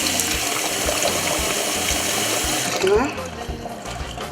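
Water runs steadily from a tap into a cooking pot during the making of a Creole cassava-leaf and salted-tail stew, a loud continuous gush that cuts off near the end, with a brief spoken word.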